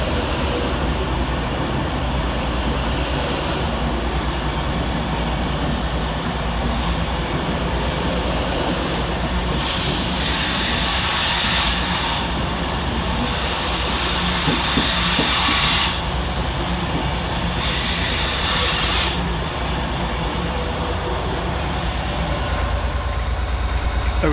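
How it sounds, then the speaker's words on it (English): A Northern class 156 diesel unit, 156491, pulls into Carlisle railway station from Barrow-in-Furness with a loud rumble of wheels on rails and repeated high brake squeals as it slows, with no voices. "Arriving to terminate with a northern service off Barrow-in-Furness is 156491."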